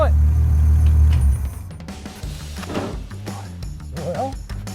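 A Ford 200 inline six engine runs with a low, steady rumble and then is shut off, the idle dropping away after about a second and a half, followed by quieter shop noise and a voice.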